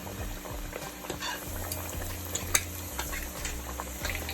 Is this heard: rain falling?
no